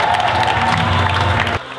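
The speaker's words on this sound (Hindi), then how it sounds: "जोरदार तालियां हमारे एक्सपर्ट के लिए।" Audience clapping and cheering for an expert called onstage at a variety show, loud and dense with crowd noise and whoops, then cutting off abruptly near the end.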